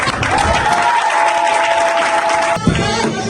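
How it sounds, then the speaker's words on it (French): Applause from a large audience at a national religious convention in Côte d'Ivoire, a loud dense roar of clapping that breaks off abruptly near the end. "Est-ce qu'on peut acclamer pour eux?"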